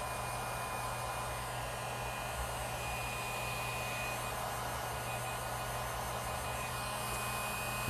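A hair dryer blowing over a piece of air-dry polymer clay for a magnet, a steady, loud, unbroken whooshing hum with a faint motor whine, no speech.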